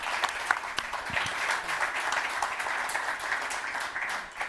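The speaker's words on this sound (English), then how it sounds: "You want to clap for David?" Audience applause for David Lehman, a head of economic development, at a Connecticut business event with Governor Lamont; steady, dense clapping from a crowd that fills the whole stretch without pause.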